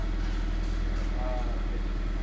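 A Subaru BRZ with a Perrin air intake idles slightly high, giving a steady low engine hum under close conversational talk.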